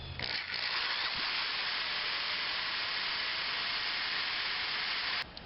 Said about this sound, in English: let's try this again with our newly sharpened bit